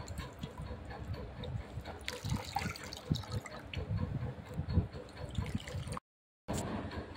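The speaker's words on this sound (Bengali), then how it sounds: "এই জলটা যতটা পারা যাবে ততটা নিজড়ে আমি বের করে দেবো" Water squeezed by hand out of grated ash gourd, a wet, dribbling and splashing trickle with soft squelches, close and continuous, broken by a short silence near the end.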